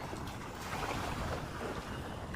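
Sea waves wash continuously around a boat at sea, with wind buffeting the microphone in a dense, steady rush and no voices.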